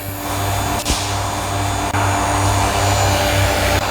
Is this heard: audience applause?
no